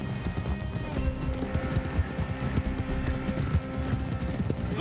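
Galloping horse hooves from Red Dead Redemption 2, a steady run of clip-clop beats mixed with game sound and a brief whinny, continuous and fairly close throughout.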